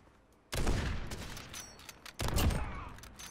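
Two loud bursts of gunfire from the survival video game Rust, each a sharp blast with a long rumbling tail, about a second and a half apart, with quiet game ambience between them and no talk.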